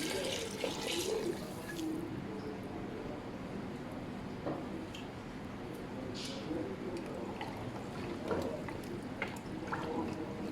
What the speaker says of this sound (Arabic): هنا نخلي كمية المي حتى يتغطى اللحم ويستوي كل زين